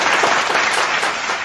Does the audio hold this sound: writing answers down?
no